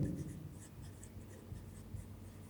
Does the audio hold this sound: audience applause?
no